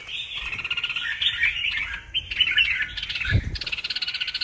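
A red-whiskered bulbul, a one-month-old wild-caught bird kept in a cage, gives bright, continuous chirping and squawky calls that carry on without a break, close and fairly loud, with a brief low thump near the end.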